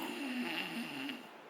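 A person snoring nearby, one long rasping, droning breath that stays steady and fairly loud before fading slightly at the end.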